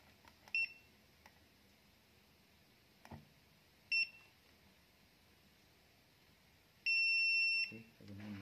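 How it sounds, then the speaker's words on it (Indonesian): Buzzer used as a continuity tester while repairing a 21-inch LG Pearl Black TV whose picture slowly fades, giving two short beeps and then one longer tone, all fairly faint against a quiet room hiss. "Untuk mencarinya saya akan gunakan buzzer agar bisa berbunyi."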